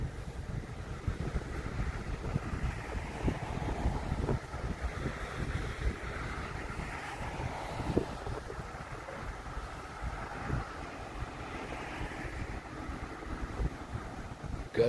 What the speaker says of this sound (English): It is chilly. It's windy.